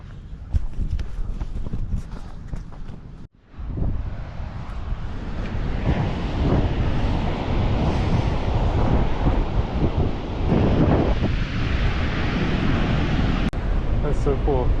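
Waves and wind on an Oregon beach: a dense, continuous roar of surf with wind buffeting the microphone, loud and steady after a brief cut near the start, with some talking mixed in.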